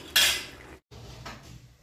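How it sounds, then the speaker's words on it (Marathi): A wok set down on a gas stove in a home kitchen, about to be heated for a spicy prawn masala, gives one sharp metallic clank followed by quieter scraping and low kitchen rumble. "गॅसवर कढई ठेवून दिली आहे गरम करण्यासाठी।"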